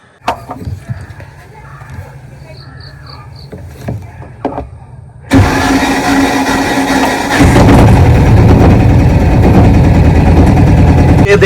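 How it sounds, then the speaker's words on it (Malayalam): A vehicle's engine, just back from low-cost body work in Kattappana, is started after a quiet stretch of small knocks and thuds. It catches with a sudden loud burst, then settles into a heavy, close idle that grows louder. "ഇതിൻ്റെ സ്റ്റാർട്ടിങ് സൗണ്ട് ഒന്ന് കേട്ട് നോക്കുക എങ്ങനെയുണ്ടെന്ന്"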